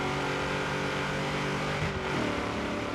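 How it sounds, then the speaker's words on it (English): Chevy SS in Forza Horizon 3, its engine droning steadily on a dirt track with a sustained tonal hum that shifts pitch near the end as revs change, moderately loud and without talk. "Listen to that engine."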